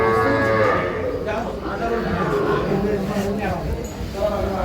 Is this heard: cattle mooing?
yes